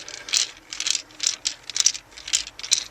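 A Phillips screw is backed out of a Honda Odyssey dash panel, giving a close, quiet run of repeated ratcheting clicks in short bursts, about seven pulses in under three seconds with no talking.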